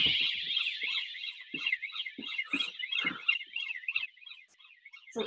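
A home burglar alarm sounds continuously in a lounge, a loud warbling electronic tone pulsing rapidly and steadily throughout, with brief low knocks and bumps beneath it.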